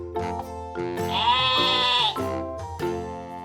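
A sheep bleats in one long, wavering, nasal cry with a couple of shorter bleats around it, close and loud with no other sound.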